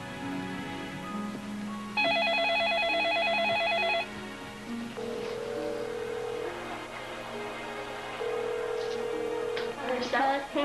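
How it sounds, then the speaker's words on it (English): Portable telephone dialing: a clear run of beeping tones followed by steady single beeps and ring tones, with faint voices and background sound behind. "10-year-old Melissa went to call on the portable phone."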